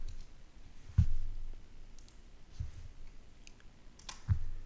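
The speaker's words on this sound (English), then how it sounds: "I can easily click the space bar and copy row C." A computer keyboard space bar is pressed a few times, each press giving a soft, near click with a dull thump, spaced apart over quiet background.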